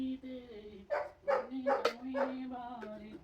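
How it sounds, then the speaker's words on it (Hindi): A dog barks outside near a gate: a quick run of several close, loud barks and yips over a steady sung voice. "बाहर को गेट के पास भौंके जा रहा है"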